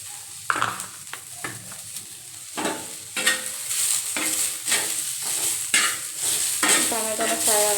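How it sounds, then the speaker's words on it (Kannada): Tomatoes frying in a pan, stirred repeatedly: a close, busy sizzle broken by rhythmic scraping strokes about every half second, loud and alone with no talk. "ಟೊಮೆಟೊನ ಫ್ರೈ ಆಗತೈತಿ."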